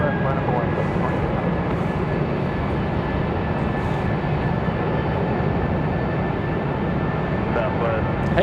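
A Birdbeak-liveried airliner spools up and departs from Raleigh-Durham's runway 5 left, a steady mid-distance jet rumble filling the whole stretch, with voices talking over it.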